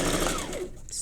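A sewing machine stitching a quarter-inch seam on quilt strips, a short, quick whirring run of the motor and needle, close and alone, slowing off at the end.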